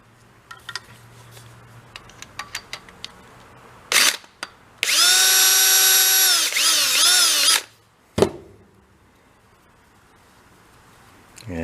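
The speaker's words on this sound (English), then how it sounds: "Part of me is wanting to drill a hole right in the back there, a little pinhole" A power drill bores a small pinhole into a Yamaha Kodiak ATV part. After a few light clicks and knocks, it runs in a loud, close whine for about two and a half seconds, then goes quiet apart from a short bump.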